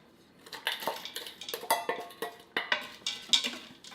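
Canned black beans tumble and clatter into a metal pot over roasted corn, a series of close, irregular clinks and scrapes from the can and spoon, rising and fading without any talking.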